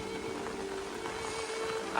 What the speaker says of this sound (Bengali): প্রচুর পরিমাণে বৃষ্টি হচ্ছে, প্রচুর পরিমাণে। ঠিক আছে, হাওয়াও চলতেছে, বৃষ্টিও পড়তেছে